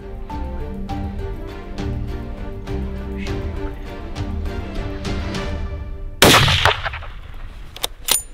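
During a caribou hunt in British Columbia, a single loud rifle shot cracks out suddenly over steady background music, followed by a decaying echo.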